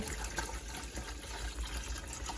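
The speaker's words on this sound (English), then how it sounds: "Pour some water into the pressure cooker." Water poured into a pressure cooker gives a steady, close, continuous rushing pour with no talk.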